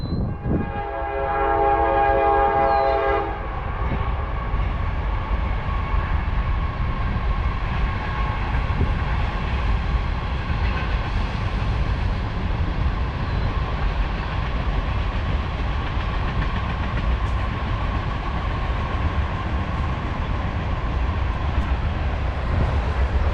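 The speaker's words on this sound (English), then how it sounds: "get to listen to the train, watch the train go by" A train rolls past close by for a long stretch, steady loud rumble and rail noise throughout, with a horn blast sounding near the start.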